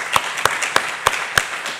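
Five sharp, evenly spaced claps ring out at an awards moment during a university innovation day event in a hall, fairly loud and close against a soft room murmur.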